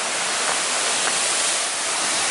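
Waterfall on Oregon's Eagle Creek Trail, a steady broadband roar of falling water, close and loud, with no pauses across the span.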